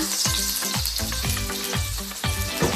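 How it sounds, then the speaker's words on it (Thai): Oil heats in a frying pan for stir-fried spinach greens, giving a loud, steady sizzling hiss that runs the whole time alongside some tonal background sound. "แล้วก็ใส่น้ำมันลงไปในกระทะนะคะ"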